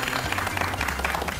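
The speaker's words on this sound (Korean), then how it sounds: "큰 박수 부탁드립니다" A studio audience at a Korean television health program claps together in a short, steady burst of applause.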